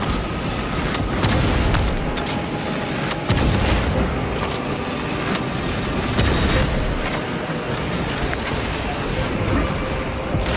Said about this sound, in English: Deploy frag grenade.